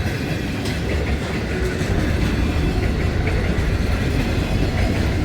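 An Aurizon freight train passes through Crystal Brook on its Perth to Melbourne run via Adelaide. A steady, loud, continuous rumble with rhythmic clickety-clack of wheels over the rail joints carries the whole time, with no talking.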